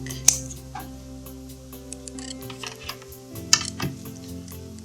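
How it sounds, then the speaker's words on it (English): A few sharp scissor snips cutting the backing fabric of fur, close and fairly quiet, with soft handling noise and a low steady hum underneath. "take your scissors and just catch that back"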